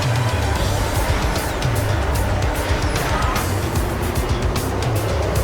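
Formula 1 cars from an F1 video game race off the start, a dense continuous engine roar with tire noise filling the scene, loud and close, with French commentary over it.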